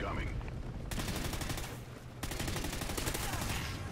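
Rapid automatic gunfire from a Battle Hind helicopter kill streak in Call of Duty: Ghosts, Cranked mode, two loud sustained bursts separated by a short gap, with voices in the game mix.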